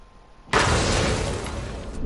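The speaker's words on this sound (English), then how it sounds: "Whoa, secondary explosive." Video game explosion in Hidden Agenda: quiet background, then a sudden loud blast that sustains as a dense crackling roar and slowly tapers off over the next second and a half.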